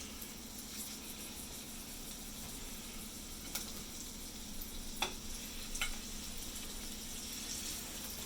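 Meatballs sizzle and brown in hot olive oil in a pan, a steady close frying hiss with a few sharper pops and crackles, and no voices.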